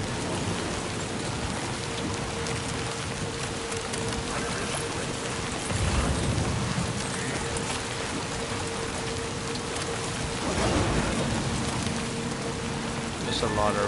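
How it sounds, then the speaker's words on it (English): Steady heavy rain in the video game Death Stranding 2 pours down in a dense, continuous hiss, with a couple of louder surges and a faint low rumble underneath. "That's a lot of rain."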